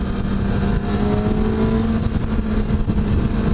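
A Kawasaki ZX-10R sportbike pulls hard in third gear, a loud, steady engine drone with a rising whine heard close up from the rider's position, mixed with wind rush.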